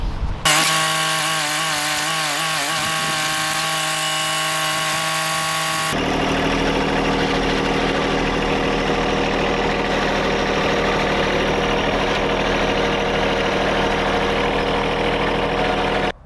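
An engine cranks for several seconds with a pulsing whirr, then catches and settles into a loud, steady idle that runs on alone for about ten seconds, close by.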